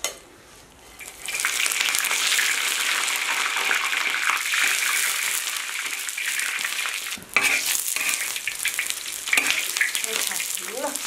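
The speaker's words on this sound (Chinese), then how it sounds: "现在把辣椒放进去" Chili peppers hit hot oil in a pan and fry with a loud, dense sizzle that starts after a brief quiet moment and keeps crackling steadily, with a short stirring break midway and no speech.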